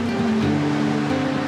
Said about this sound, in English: The waves are crashing, the wind is blowing.